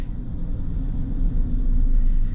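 A 2024 Chevy Silverado 1500 LTZ with the 5.3 engine drives along, giving a steady, low rumbling cabin drone that swells slightly and holds smooth and continuous with no talk.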